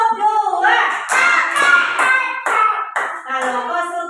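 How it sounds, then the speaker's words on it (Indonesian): Rhythmic hand claps from a school classroom clapping game ring out in a steady, evenly spaced series, close and crisp, mixed with a voice speaking or chanting. "Tepuk satu. Tepuk dua."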